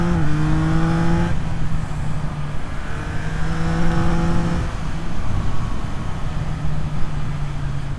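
A 2024 Yamaha MT-09 triple-cylinder naked motorcycle is ridden, its engine climbing through revs in rising tonal sweeps and dropping back between gears, under steady wind roar, close and loud throughout.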